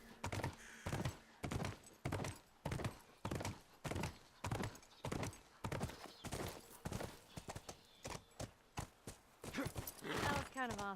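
A horse's hooves clip-clop in The Last of Us Remastered, a steady loud rhythmic run of close thudding steps with a short whinny-like sound near the end.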